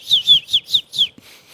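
Someone whistles a bird call in imitation, five quick bright downward-sliding chirps in a steady rhythm, close and clear with a soft thump after and no talking.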